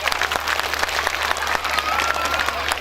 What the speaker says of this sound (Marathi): आई बरं इकडं आईसाठी जोरदार टाळ्या झाल्या पाहिजे